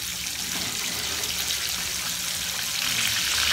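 Tofu frying in a pan, a steady broadband hiss and sizzle of hot oil that holds evenly throughout without pause, close and continuous, with no talking.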